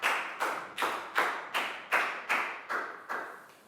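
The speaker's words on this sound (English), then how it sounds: "High five, round of applause for Lakgao." Classroom of Year 4 children clapping together in a round of applause, about eight rhythmic bursts of claps in steady succession, close and moderately loud, with no talking.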